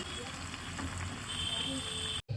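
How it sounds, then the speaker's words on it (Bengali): Mutton pieces frying in oil in a pan during kosha cooking, a steady close sizzle with faint scraping, cutting off abruptly near the end. "মাটনটা মোটামুটি কষানো হয়েই গেছে, পাশ থেকে তেল হালকা হালকা ছেড়ে দিয়েছে।"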